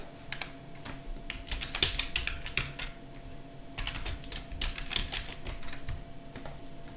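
Command being typed on a computer keyboard, a close run of quick, quiet clicking keystrokes in irregular bursts with short pauses, no voice.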